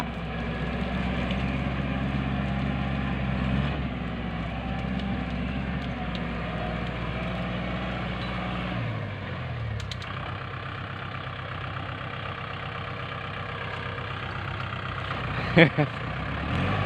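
A heavy Kubota tractor engine idles and rumbles steadily throughout, with a low droning note that shifts pitch partway through and a brief clank near the end.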